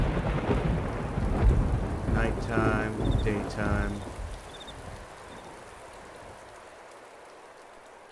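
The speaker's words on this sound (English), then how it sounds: "there's shitty weather, rainy" Rain and rumbling thunder from DayZ game weather, a broad loud wash that fades over several seconds, with someone talking over it.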